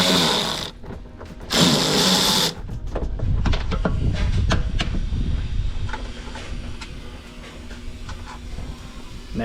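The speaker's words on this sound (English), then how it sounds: "So let's remove that one single bolt and remove the whole bumper." A power tool whirs in two short, loud bursts, removing a bumper bolt from a K-swapped Toyota MR2 in a garage, followed by lower clattering and handling noise.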